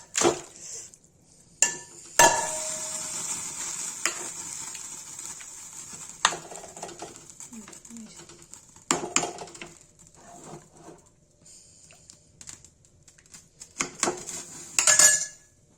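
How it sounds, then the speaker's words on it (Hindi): Steady sizzling and hissing from a pan of paneer cooking for shahi paneer, with intermittent clinks of a utensil against metal and occasional scraping. "देखिए गाइस पनीर उबल रही है।"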